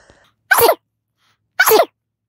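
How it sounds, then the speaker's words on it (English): Two sharp sneezes close to the mic, about a second apart, with silence between them. "I had to sneeze"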